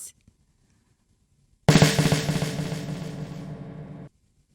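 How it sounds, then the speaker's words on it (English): Reverberation in a room built from many close sound reflections: a sudden loud onset blurs into a dense, lingering wash that slowly thins over a couple of seconds before cutting off, with no distinct repeats. "This sound that we hear is called the reverberation."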